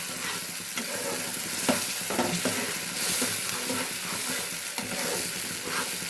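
Tomato paste frying and being stirred in a pan for an egg curry, a steady close sizzle with intermittent scraping strokes of the spoon across the pan, no talk.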